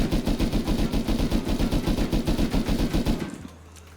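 Rapid automatic gunfire from a laser-sighted rifle in the survival game Rust, a steady run of evenly spaced shots lasting about three seconds before cutting off to a low hum.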